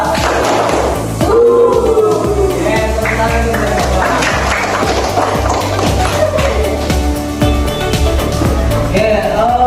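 Schoolchildren in a primary classroom clap out a longer 'tepuk 3' routine, a dense run of quick group hand claps in repeated bursts, with some voices mixed in.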